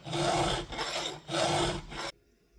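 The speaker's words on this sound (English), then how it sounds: "If I push, hear that? That's actually trying to file backwards." A hand file rasps across a chainsaw chain tooth in two long, even strokes close up, each a gritty scraping rush, before stopping abruptly into near silence.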